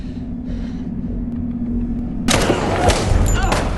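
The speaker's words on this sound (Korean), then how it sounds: "깔끔하게 명중한 총알" A gunshot rings out in a film scene, a sudden loud broadband blast that cuts in after a low steady hum and tones, followed by a dense rumbling, crackling tail with scattered sharper cracks.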